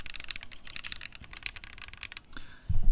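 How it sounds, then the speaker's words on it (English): Fast typing on a Keychron Q1 75% mechanical keyboard resting on a table, a dense run of close, crisp clacks, ending in a low thump. "It just sounds like a keyboard"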